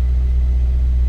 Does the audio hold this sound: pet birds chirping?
no